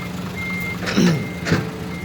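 A truck's reversing beeper sounds two short beeps over a low idling engine hum, at moderate distance.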